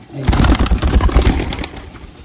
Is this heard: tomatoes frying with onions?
no